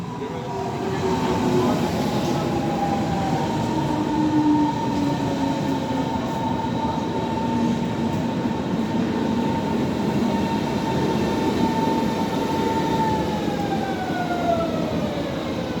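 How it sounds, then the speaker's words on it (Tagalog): A Berlin S-Bahn S7 train pulls into a station platform, a loud, sustained rumble of wheels on track with long, drawn-out squealing tones from the brakes and rails as it slows. "Eingefahrener Zug auf Gleis 1, S7 nach Ahrensfelde, über Ostkreuz, Lichtenberg."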